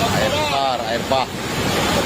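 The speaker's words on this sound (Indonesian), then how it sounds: "Air besar, air bah." Rushing flood water of a swollen river in West Sumatra, a steady loud roar of surge and spray with wind buffeting the microphone.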